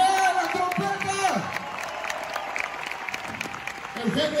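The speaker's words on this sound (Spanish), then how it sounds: "¡Den un fuerte aplauso a los metales, los mejores metales de México!" Concert crowd at a Christian worship show in Monterrey, Mexico, applauding the brass section, with a dense, steady wash of clapping and cheering throughout under sustained musical tones and a voice over the top.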